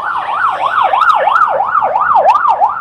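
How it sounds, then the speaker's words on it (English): Emergency vehicle siren wailing in steady rising-and-falling sweeps on a street, loud and continuous, with no talk over it. "noisy sirens"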